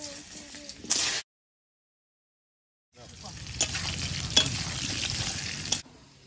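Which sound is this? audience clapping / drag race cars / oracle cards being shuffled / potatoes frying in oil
potatoes frying in oil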